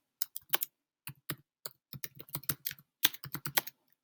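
Keys on a computer keyboard are typed in short uneven bursts, crisp close clicks separated by brief pauses, with no voices.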